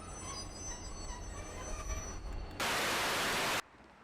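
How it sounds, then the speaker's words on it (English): DSC 2693 diesel locomotive shunts coaches into a platform at Whiteley Avenue Crossing, Christchurch, with a low rumble of rolling stock, then a loud, sustained metallic wheel squeal that stops abruptly. "DSC 2693 shunting the coaches into the platform after bringing them in from Waltham"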